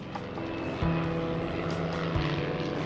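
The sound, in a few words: aircraft engine in an air battle sound effect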